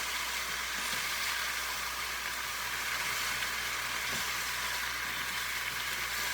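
Summer squash fries in olive oil with onion in a pan, giving a steady, dense sizzle that holds evenly throughout, close and fairly loud with no talking.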